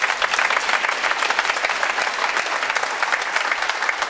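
A studio audience at a German football talk show claps loudly and steadily, a dense wash of hand claps with no voices over it.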